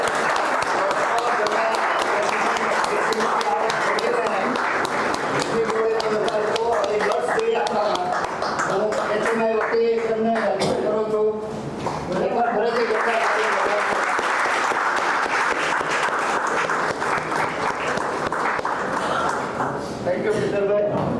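An audience at a homeopathy seminar applauds to welcome a doctor, with sustained clapping running throughout and voices talking over it.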